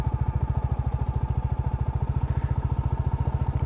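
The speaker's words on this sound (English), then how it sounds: "it struggles a little bit more to chug along in second without any clutch usage" Royal Enfield Classic motorcycle chugging off-road in second gear with no clutch use: a close, loud, steady rapid thump of the single-cylinder engine, evenly pulsing throughout with no talking.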